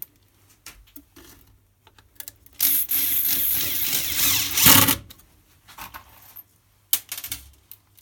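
A screwdriver drives self-tapping screws into the frame of a silicone mold, with a sustained, loud whir lasting about two seconds, surrounded by small clicks and handling knocks, nearby.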